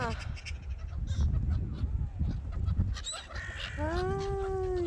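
Seagulls and crows call over a noisy, rumbling background, ending with a few rising, drawn-out cries close by.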